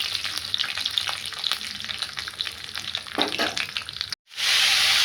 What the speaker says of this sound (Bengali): আলুটা ভালো করে নেড়ে নিচ্ছি